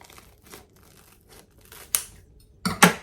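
Fried toasts being cut in half with a knife: a few short crisp crunching cuts, the last two loud and close, with faint scraping between them and no talk.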